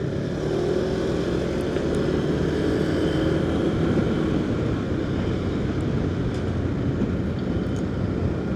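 A touring motorcycle with a stock exhaust accelerates on the road, giving a steady, loud engine drone throughout with constant wind rush and no pauses.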